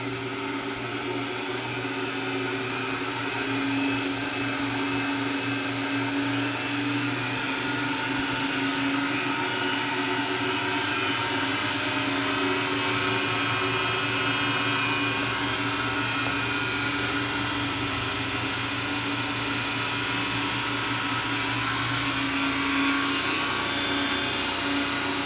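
Electric motor spinning steadily at about 2200 RPM, a constant loud whirring drone with sustained hum and tonal whine, no talk, unchanging throughout.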